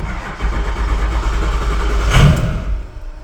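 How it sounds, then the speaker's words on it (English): A used car engine cranks, catches briefly with a short rise in revs, then stalls into quiet. Heard close and loud. "Started, then stalled."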